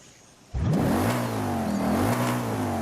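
A stock 6.2 V8 in an Audi RS 5 in Forza Horizon 5 fires up abruptly and revs, a loud deep engine note rising and falling in two swells and then holding steady.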